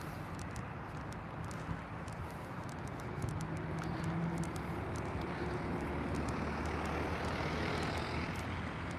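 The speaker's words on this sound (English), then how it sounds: "Gotta love how the Tesla engine sometimes sounds, like when it's like rolling in." A Tesla electric car rolls in on a San Diego street, a steady, broad whooshing drone with some wind noise that holds level throughout and grows slightly fuller partway through.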